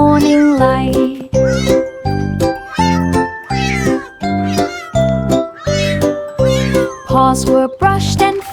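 A kitten meows over and over in a steady rhythm, each cry high, clear and close, with faint tinkling chimes in the background.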